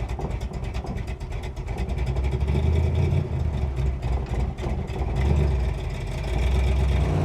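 A 1966 Ford Mustang with a five-speed transmission runs and drives, its engine a steady, loud low rumble heard from close by that swells and eases as it accelerates, with road and wind noise layered over it and no talking.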